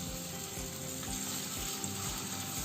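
Chopped onions hitting hot oil in a pan for a Bengali hilsa fish korma, a steady close sizzle and crackle with soft stirring scrapes, no voices.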